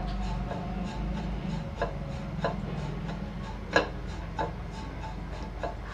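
Gram flour (besan) mixture dry roasted in a pan without ghee, soft scraping and rubbing of a spatula with scattered light taps against the pan, close and fairly quiet.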